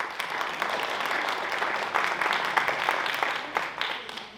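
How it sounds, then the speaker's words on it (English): An audience at a guide training session claps together, a steady wash of hand claps with some sharper individual claps standing out, held at an even level throughout. "Let's hear you clap one more time."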